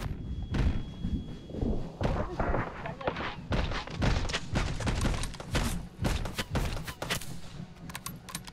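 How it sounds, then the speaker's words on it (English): Gunfire rattles through the VR game Hot Dogs, Horseshoes & Hand Grenades, a dense stream of sharp shots and heavy thuds, some close and some distant, with a voice talking over them. "Who's shooting at me?"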